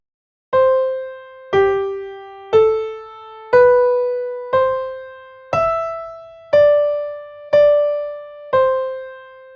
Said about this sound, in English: Here's the cantus firmus in the upper example.